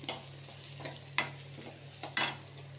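Garlic frying in oil in a kadai with onions for a mango dal, soft steady sizzle under a few sharp scrapes and clicks of a spoon stirring against the pan.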